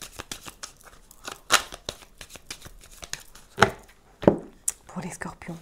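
A deck of playing cards being cut and handled during a tarot-style reading, close crisp snaps and riffling clicks with a few sharper slaps, while a voice speaks softly between them.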